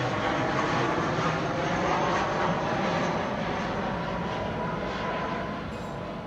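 A Southwest Airlines airliner flies in to land at Midway, arriving from Detroit, its steady engine roar loud and broadband throughout, easing slightly toward the end, with no voices.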